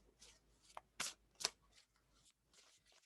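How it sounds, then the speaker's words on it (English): Tarot cards riffle and snap through several quick shuffles, soft and close, with brief pauses between bursts and no one speaking. "I got a lot of cards here. Just a little extra shuffling."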